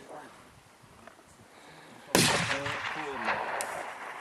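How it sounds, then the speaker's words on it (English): One loud, sharp F Class rifle shot bursts out at an outdoor league shooting range, followed by a lingering rumble and distant voices talking in the background. "Looks like Laurie Holland shooting open today"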